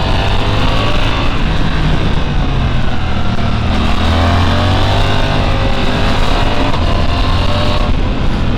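A 2023 Suzuki GSX-8S motorcycle engine runs steadily and loud, pulling from low revs with a smooth, continuous drone that rises and falls gently throughout, no talking over it.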